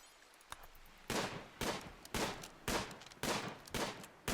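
Rapid bursts of video game gunfire from RimWorld, about eight sharp volleys in quick succession, fairly loud and clipped, following a faint shot near the start.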